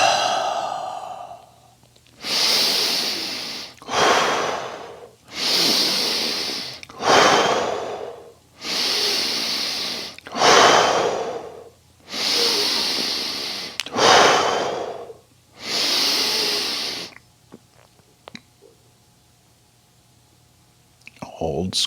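Deep Tummo breath-of-fire breathing, a series of about eight loud, close, rushing breaths in roughly two-second bursts with short pauses between, fading to near quiet before a final intake.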